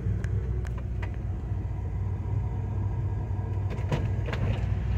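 A 1978 Chevy with its engine idling: a steady low rumble close by with a few faint clicks and knocks on top, no talking.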